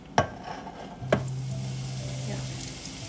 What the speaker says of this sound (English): we're gonna continue the process until we got all our bitter gourd